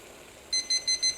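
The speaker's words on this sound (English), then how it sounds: "I'm going to turn the alarm off." A digital timer alarm goes off during a boil test with a Fosters beer can alcohol stove. Sharp, high electronic beeps start suddenly and repeat in four quick bursts, fairly loud, with no voices.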